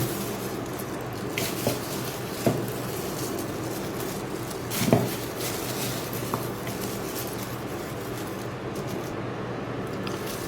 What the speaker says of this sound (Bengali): যে আমরা এখন আমাদের চিকেনটা শর্মার ভিতরে দিয়ে দিচ্ছি।